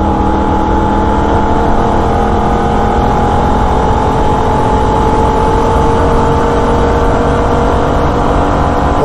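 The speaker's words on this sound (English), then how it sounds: "Start to approach wide open throttle now as we hit the apex and start to drift the car right to the outside." A Holden race car at wide open throttle on the Nurburgring, its engine holding a steady, loud, buzzing drone with strong even harmonics throughout, close up, with no voices.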